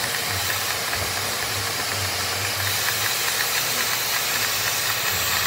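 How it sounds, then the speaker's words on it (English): The bypass vent valve on a dental suction unit opens with a steady airy hiss over a low motor drone, constant and close for several seconds. "That's the valve, bypass valve opening up, vent valve as we call it."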